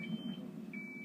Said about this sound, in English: I wanted to show you how to disable the MED5000 alarm beeps